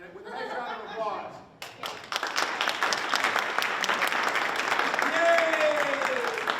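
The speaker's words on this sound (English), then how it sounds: "let's give Terry and Paul, the brass section, a little break and send them to their resting place for a minute with a nice round of applause" Audience applause at a holiday jazz concert, a dense crowd clapping that swells after a brief lull and holds steady, with a few cheers and a whistle near the end.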